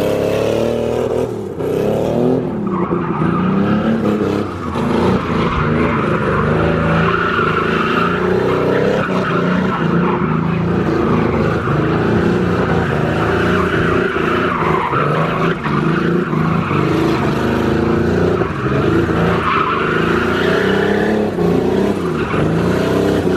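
Chevrolet Omega drifting, tires squealing continuously over a loud, revving engine for a long stretch, close by and sustained with little letup.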